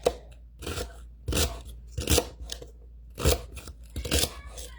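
A knife chops on a wooden butcher board, sharp irregular strikes spaced roughly half a second apart, close and crisp with a little crunch.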